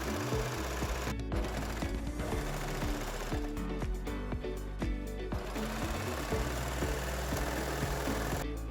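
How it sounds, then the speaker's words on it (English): Sewing machine stitching around a swimsuit neckline through layered fabric, a fast, steady mechanical chatter running close and continuous with brief changes in speed and no voices. "Sew around the neckline and keep an eye on the layers."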